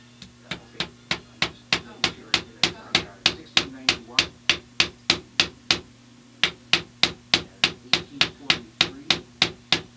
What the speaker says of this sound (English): So we find out which way the peg is tapered, and we drive it out the opposite way